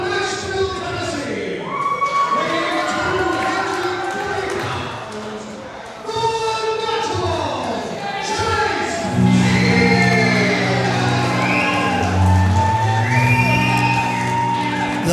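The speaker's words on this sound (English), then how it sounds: "The place always goes wild when the natural Chase Stevens shows up." Loud arena crowd at a wrestling event in Nashville, cheering and shouting as hometown wrestler Chase Stevens makes his entrance, with sustained roaring and whoops under a commentator's voice.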